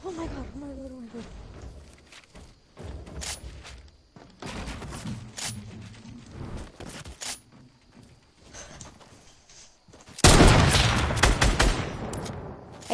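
Fortnite gunfire: scattered shots mixed with excited talking, then a loud, dense burst of rapid fire near the end.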